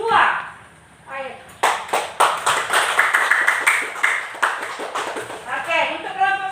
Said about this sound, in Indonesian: Nah, Ibu beri aplaus kepada kelompok 2.